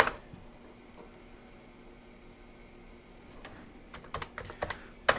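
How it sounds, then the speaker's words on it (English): Typing on a Commodore 64 keyboard during a power-on test of the vintage computer: a quiet stretch, then a burst of close, sharp key clacks in quick irregular succession over a faint background hum. "It looks like our keyboard is working. Don't really see any dead keys or anything there."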